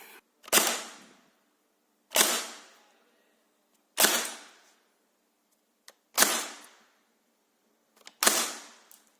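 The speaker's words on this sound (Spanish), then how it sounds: "Y vamos a por la prueba de tiro" Five sharp shots from a Tokyo Marui PS90 High Cycle airsoft gun ring out one by one at a steady pace, roughly two seconds apart, each a crisp snap with a short decaying tail.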